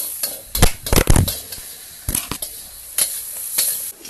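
Doubanjiang chili bean paste is stirred and fried in hot oil for Sichuan boiled fish, heard as a few loud, close scraping and spluttering bursts from the pan separated by quieter gaps.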